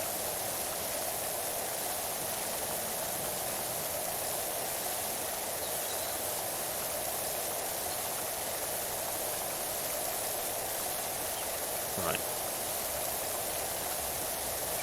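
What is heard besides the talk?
pressure washer spraying in the video game PowerWash Simulator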